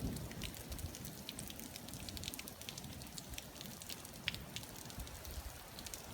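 Steady rain falls on a golf course, a soft, continuous patter with scattered light drops, faint and unbroken, with no voices.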